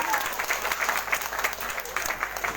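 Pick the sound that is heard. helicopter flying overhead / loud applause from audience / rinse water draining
loud applause from audience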